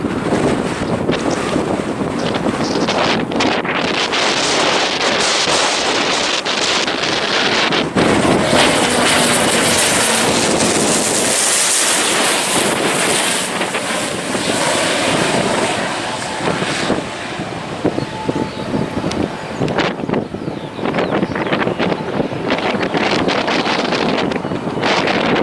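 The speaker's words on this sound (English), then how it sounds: "That was a bit of a strong headwind he had to face then." A strong headwind blows into the microphone on an outdoor hike, giving a loud, continuous buffeting roar that surges and dips for the whole stretch, with no clear talk.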